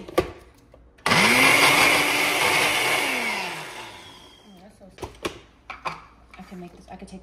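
A blender whirs loudly, its motor pitch sliding down as it runs, then winds down and stops, followed by scattered clinks and knocks.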